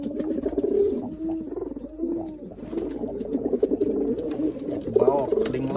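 Pigeons coo in low, rolling murmurs at a loft, several birds overlapping continuously at close range, with faint background voices and small clatters.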